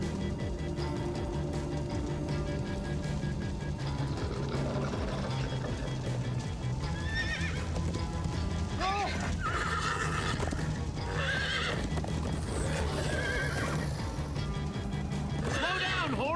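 Horse neighs and whinnies with galloping clip-clop hooves in the Minecraft: Story Mode game, loud over a busy music and effects bed, with a couple of rising whinnies partway through.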